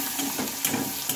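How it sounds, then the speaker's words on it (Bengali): Sliced onions and green chillies frying in oil, a short stretch of close, steady sizzling with faint stirring scrapes and no talking. "এবার পেঁয়াজটা একটু ভালোভাবে ভেজে নিতে হবে।"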